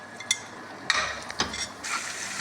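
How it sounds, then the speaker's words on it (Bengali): Onion and garlic fry in oil with salt, turmeric, chili and coriander powder in a pan. A soft sizzle runs under sharp metal clinks and scraping as a spatula stirs, with the sizzle growing louder near the end. "রসুন দেওয়ার পরে পেঁয়াজ দিতেছে, একটু ভাজা ভাজা করার পরে"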